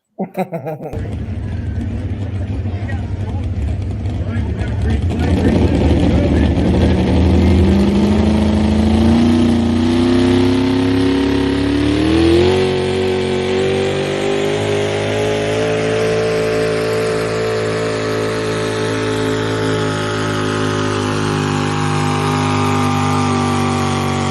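Two big Ford pulling trucks, Moonlighter and Limited Edition, haul a drag sled down a truck pull track, their engines roaring loud and close and climbing steadily in pitch as they pull for over twenty seconds.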